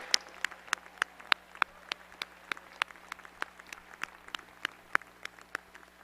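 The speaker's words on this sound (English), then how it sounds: "join me in another round of applause for all of the award winners" An audience applauds award winners at a graduate commencement ceremony, heard as faint, sparse, evenly spaced claps with no voices over them.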